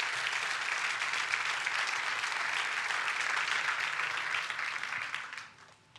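Church congregation applauding at a pastor's urging, a dense, even wash of many hands clapping that holds steady for several seconds before fading away at the end.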